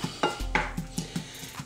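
Sliced onion rings drop into a pan with smoked sausage and sauerkraut, one soft thump and a rustle followed by a few light taps of a utensil against the pan, quiet and close.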